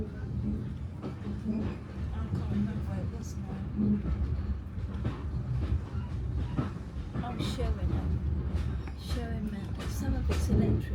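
Train rolling past on a heritage railway in countryside, a steady low rumble with faint rhythmic wheel clatter, while people talk close by throughout.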